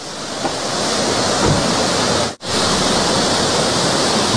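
A waterfall near Pelling roars in a loud, steady, close rush of falling water that fills the whole stretch, with only a momentary break partway through.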